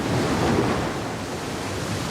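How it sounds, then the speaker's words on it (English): Steady roar of surf and gusting wind, broad and rushing, swelling slightly then holding level, with no voices. "For winds blowing in gusts, for winds whistling in the branches."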